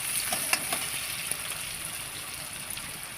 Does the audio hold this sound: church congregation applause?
no